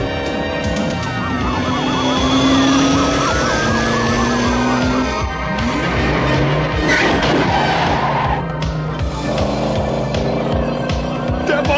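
Wailing police car siren during a cartoon chase, loud and close with rising and falling sweeps over engine noise and clattering action effects throughout.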